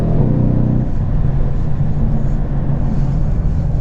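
Mercedes-AMG C63 S engine heard from inside while driving, a steady loud broadband drone with a low rumble that holds at constant strength, no voices present.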